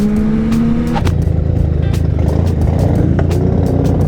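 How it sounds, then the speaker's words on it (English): Yamaha MT-09 motorcycle from 2018 fitted with an aftermarket exhaust, riding along with a steady, loud engine drone and rumble that shifts and thickens partway through, close and continuous with no talking. "I'm riding buddy Pascal's 2018 MT09. He's got the bar end mirrors, obviously an exhaust."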